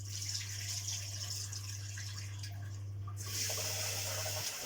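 Rice being washed by hand in water before cooking, a continuous close swishing and sloshing as the grains are massaged, over a steady low mains hum, with a brief quieter gap before the splashing resumes.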